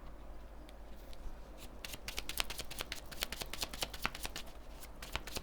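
A deck of tarot cards is riffled and shuffled up close, a quiet run of crisp flicking card snaps that grows denser and continues steadily, with no voice.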